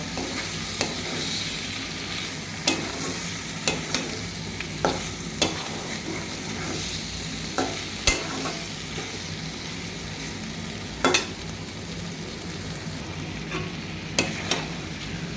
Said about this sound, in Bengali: মাছগুলো এখন আমি এইভাবে উল্টে পাল্টে কষাই নেব